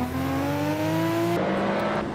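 Race cars in Assetto Corsa, a Toyota Supra trailing a Toyota GT86 in a Nissan, Toyota and Honda touge event, engines droning steadily at high revs with a sharp pitch shift partway through as one car changes gear or passes.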